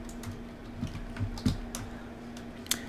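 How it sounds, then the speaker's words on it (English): A password is typed on a computer keyboard, with a handful of soft, scattered key taps close by over a faint steady hum, and no voices. "you're going to type in your password to log in"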